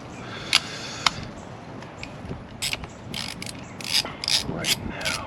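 A ratchet wrench clicks while removing bolts on a Chevrolet Cobalt SS, with sharp isolated clicks early, then bursts of rapid ratcheting near and fairly loud, with no talking.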